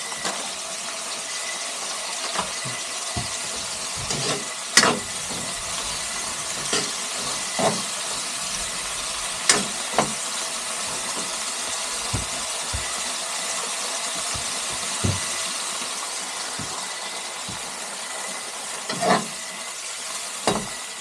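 Water splashed into a hot pan sizzles and hisses steadily with steam while vegetables cook for supper, with sharp clicks and scrapes of a utensil against the pan recurring through the steady fry.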